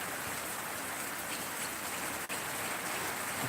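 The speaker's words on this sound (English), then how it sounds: "We're getting some good rain now, boys." Heavy rain pours down hard outdoors in Australia, a dense, continuous loud hiss of drops with no pauses.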